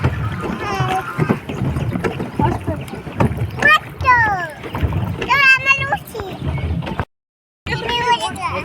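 A small boat rides on the water at a zoo and jungle safari park in New Raipur, with faint splashing under near, lively chatter from children and adults, briefly dropping to silence near the end.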